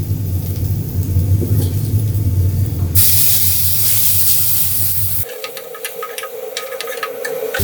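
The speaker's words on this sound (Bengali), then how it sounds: "তেলের মধ্যে আমি পেঁয়াজগুলো ভেজে নিই" Sliced onions fry in hot oil for egg biryani, giving a steady loud hiss and sizzle close up that shifts abruptly in tone twice as the scene changes.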